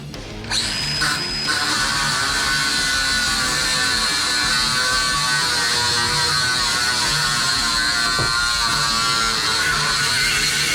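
A power drill whines steadily and loudly at close range, drilling holes into a metal dump trailer, grinding continuously with only brief pauses at the start.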